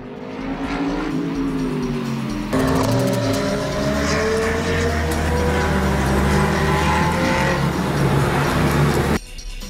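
Race cars at the Lédenon circuit, engines revving loudly and changing pitch as they accelerate and pass near, a sustained roaring drone with shifting gear tones that cuts off abruptly at the end.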